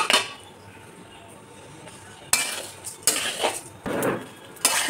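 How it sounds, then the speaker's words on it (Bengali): Rice being fried in ghee in a pan for pulao, with a soft sizzle and several sharp clinks and scrapes of a spoon against the metal pan in the second half. "এবার আমি কিছুক্ষণ ধরে ভেজে নেব।"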